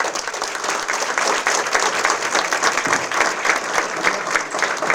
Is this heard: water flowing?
no